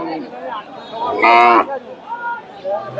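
A Friesian cross dairy cow at a cattle market gives a single loud moo close by, amid the surrounding chatter of people.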